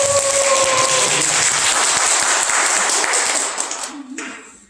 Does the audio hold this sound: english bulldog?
no